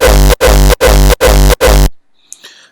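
A hardstyle raw kick's sub bass layer thumps five times in an even rhythm, each hit a loud, deep, sustained boom with a sharp cutoff, followed by near silence and faint noise.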